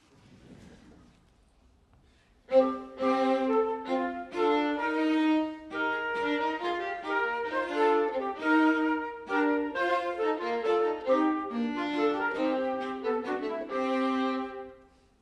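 A small ensemble of modern acoustic instruments plays a lilting, dance-like section of the medieval Agincourt Carol at moderate volume after a brief quiet start, with no voices.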